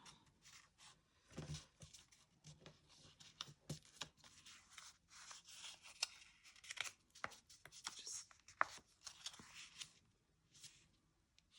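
Paper is cut for a no-sew junk journal, giving faint close-up snips, rustles and handling noises in irregular bursts. A quiet voice speaks intermittently.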